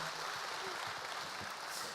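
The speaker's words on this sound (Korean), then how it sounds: "다시 한번 박수 부탁드리겠습니다" Studio audience clapping at a Korean talk show on considerate driving and traffic culture, a fairly quiet, even patter of hands that fills the short moment.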